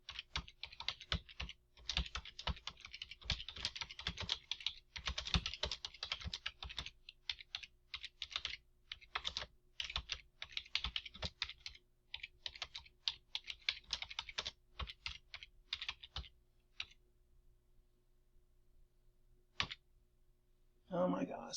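Fast, uneven clatter of keys on a computer keyboard, close and fairly quiet, coming in dense bursts that thin out into scattered taps and then stop.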